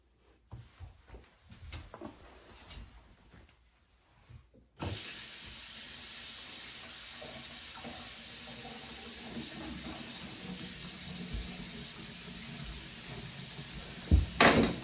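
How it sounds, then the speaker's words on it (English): A faucet is turned on and water pours steadily into a sink, a continuous close hiss after a few seconds of quiet handling noises. "Now what I'll do is I'll run the water and make sure there aren't any leaks"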